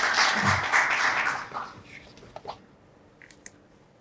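Audience applause at a water forum session in Chuncheon, a brief burst of clapping from the hall that fades out within about two seconds into quiet room noise.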